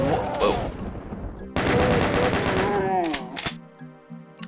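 Chaingunners in Doom 2 open up with sustained rapid automatic fire, a dense loud chattering burst lasting over a second, preceded by a shorter volley and followed by scattered game sounds; a voice can be heard in the mix.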